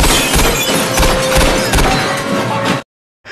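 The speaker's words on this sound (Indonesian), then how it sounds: "menembak tangki gas yang berada di sana, membuat rumah tersebut hancur tak tersisa" A gas tank is shot and explodes in a film, destroying a house: a loud, sustained crashing, shattering roar with heavy low rumble that runs for nearly three seconds, cuts abruptly to silence, then briefly returns.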